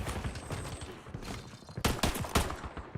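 Video game gunfire crackles in a dense fusillade, rapid bursts of shots rising to sharper, louder volleys near the end, with faint background game noise and no voices.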